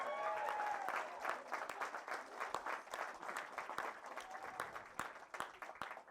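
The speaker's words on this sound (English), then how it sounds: "It's okay to clap." Wedding guests applaud just after a couple is pronounced husband and wife, a steady wash of many hands clapping that carries through the whole stretch at moderate volume, with a voice briefly audible near the start.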